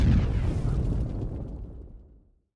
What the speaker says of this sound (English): Russia launched a large nuclear bomb that went off at the center of Great Britain